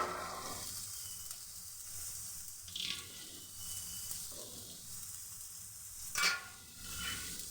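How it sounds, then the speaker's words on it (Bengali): Cauliflower florets stir-fried in a pan with browned onion and green chillies give a steady close sizzle, broken by a couple of louder scraping stirs. No one speaks. "এখন আমি দিয়ে দিব ফুলকপিগুলো"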